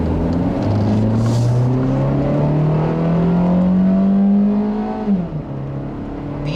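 A 2005 Honda Civic with the 1.7-liter D17 engine revs steadily upward, its whirring drone climbing in pitch over several seconds before dropping off as the driver lifts, heard from inside the car.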